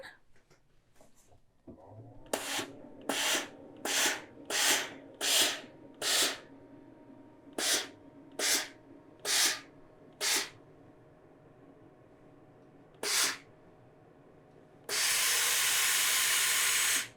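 Steam iron pressing a folded fabric hem on a skirt, with a series of short, evenly spaced hissing bursts of steam, a couple of later puffs, then one long loud continuous hiss at the end.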